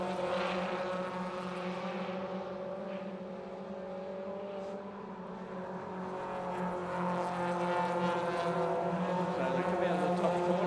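Race car engines drone at Sydney Motorsport Park, a steady mid-level roar that swells toward the end as cars come out of a corner, with faint commentary over it.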